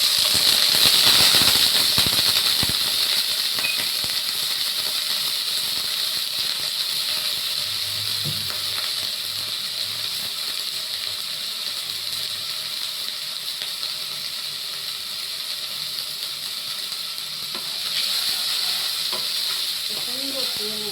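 Chopped potato and garlic fry in oil, giving off a steady, broad sizzle that carries on for the whole stretch. Occasional scrapes and clatters break through near the start and again toward the end.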